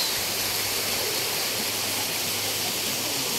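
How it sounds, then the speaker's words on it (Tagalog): Kakawayan Falls in Infanta, Quezon pours in a steady, dense rush of falling water. It sounds close and unbroken, and no one speaks. "ito yung falls nila oh"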